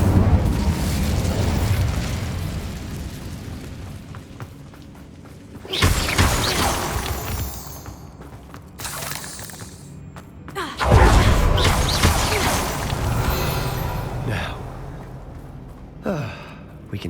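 Incendio fire spell cast in Hogwarts Legacy, whooshing bursts of flame and fiery booms that swell and fade several times, with a few gasping voice sounds in between.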